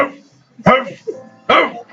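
A man imitates a dog with his voice, giving two loud, gruff barks spaced apart, close and forceful with short vocal sounds between them.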